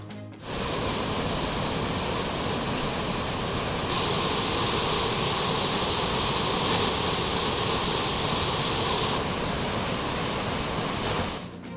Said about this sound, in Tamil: குமரி மாவட்டம் பேச்சிப்பாறை அணையிலிருந்து 500 கனஅடி தண்ணீர் வெளியேற்றம்